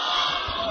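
A large crowd at a Sunni religious conference shouts back in unison after a Takbeer slogan, a brief, loud, massed roar of voices.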